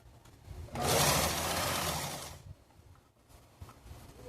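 A sewing machine stitches a seam on a child's top, using elastic as a guide, in one loud close burst of about a second and a half, then stops, leaving quiet room sound.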